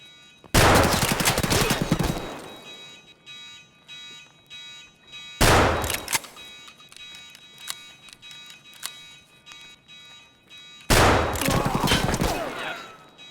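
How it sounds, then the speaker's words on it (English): Three separate loud bursts of gunfire from the game Escape From Tarkov, an automatic weapon and a pellet-loaded shotgun, each bursting sharply and trailing off, with quieter clicks and small noises between them. "Full auto versus shotgun with shitty pellets."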